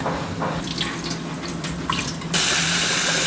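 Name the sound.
water running while washing rice and beans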